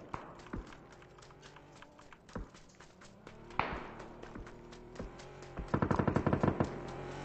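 Gunfire in the battle royale video game PUBG, with scattered single shots and then a rapid automatic burst near the end, sounding at a moderate distance over quiet background noise.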